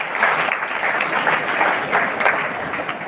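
An audience at a school awards ceremony for top students claps steadily, a dense, even patter of many hands that holds throughout at moderate loudness.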